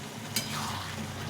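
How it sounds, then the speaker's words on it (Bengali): Bottle gourd and spices fry in a pan for lau ghonto with fish head, a quiet continuous sizzle with a single quick scrape of stirring at the start, close by and without speech. "মশলাটা ভেজে নিয়ে নিই, এখন মানে লাউয়ের মধ্যে দিয়ে দিলাম।"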